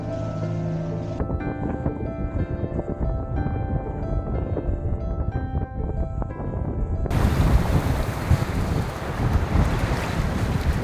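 A sailboat under a second reef motors with its engine idling as it crosses a river bar into the Pacific. Heavy wind roars over the microphone, swelling into a louder, rushing gust of wind and water partway through.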